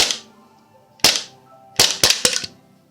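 A Tokyo Marui airsoft gun with a leaky magazine fires several sharp, close cracks: one shot, a pause, then a quick burst of three or four pops with brief hissing tails.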